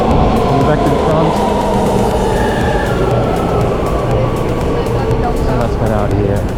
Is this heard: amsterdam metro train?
yes